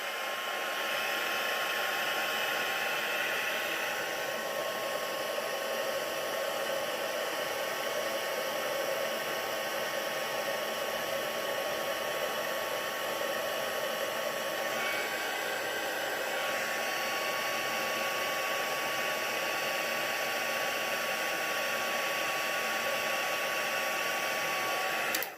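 A heat tool melts embossing powder on a card with a constant, loud blowing whoosh and a thin whine, running unbroken for the whole stretch with no voices.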